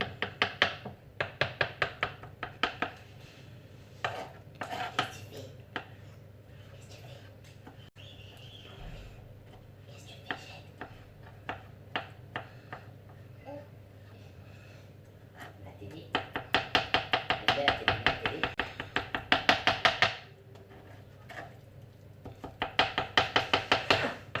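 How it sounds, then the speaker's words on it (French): A knife chops eggplant flesh very finely on a board for Turkish alinazik kebab, in rapid rhythmic bursts of close, crisp taps separated by quieter stretches with faint background sound. "Limite on va hacher la chair de l'aubergine."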